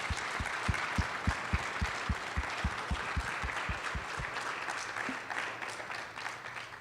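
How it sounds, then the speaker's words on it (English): Applause from a planning conference audience at a spring conference in Utah, a steady wash of many hands clapping over several seconds, with low thumps underneath, tapering off slightly toward the end. "if we can give her a round of applause"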